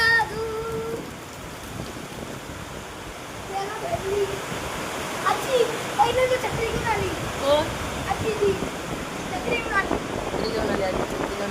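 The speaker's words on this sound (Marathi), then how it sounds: "बघा पाऊस बघा." Steady, dense rain hisses close by through a windy storm, with scattered voices talking over the downpour throughout.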